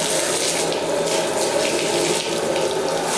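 Steady rushing water pours from a tap, a continuous close hiss with no breaks, like a tub being filled.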